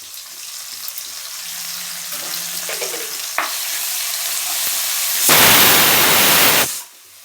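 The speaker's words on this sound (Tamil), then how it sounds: "இப்போ தக்காளி ஒரு சின்னதாக எடுத்து கட்டி வச்சு போட்டுக்கலாம். இஞ்சி பூண்டு பேஸ்ட் போட்டுக்கலாம்." Tomato and ginger-garlic paste frying with onions in a pan for chicken thokku curry, a steady close sizzle with light stirring, swelling into a loud hissing burst near the end as the ingredients hit the oil.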